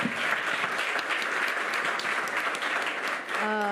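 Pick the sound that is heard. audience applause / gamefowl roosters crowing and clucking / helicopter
audience applause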